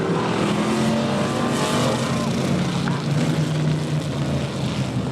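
Several IMCA oldtimer race cars sit lined up at a pioneer village exhibition with engines running, a steady dense mechanical roar that stays loud and constant throughout without any distinct revs.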